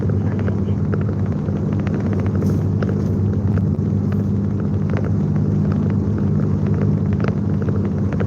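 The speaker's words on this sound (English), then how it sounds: "Oh, it's a truck ahead of me." A truck rumbles on the road ahead, a steady low drone that holds at the same level throughout, heard from inside a moving vehicle with no clear speech over it.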